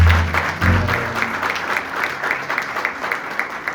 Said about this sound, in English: Can we clap our hands for your father?